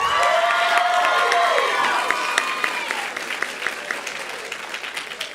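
Enthusiastic audience applause with cheers and whoops at a Little Cherokee Ambassadors pageant for the winner of the 4-to-6-year-old girls competition, loud dense clapping with shouted voices that gradually thins toward the end.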